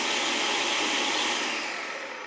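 Blender running on its puree setting, whirring a milk alternative into a smooth liquid, a loud steady whine up close that tapers off slightly near the end.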